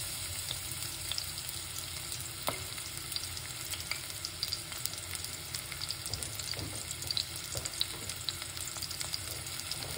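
A medium red onion sizzles in very hot oil in a pan, a steady close crackle and hiss with small pops, heard alone without talk.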